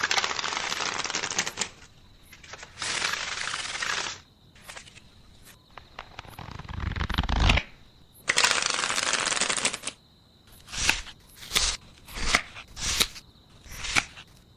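Tarot cards are shuffled and handled up close in a series of loud, papery riffling bursts, followed by quicker, sharper taps as individual cards are set down. No one speaks.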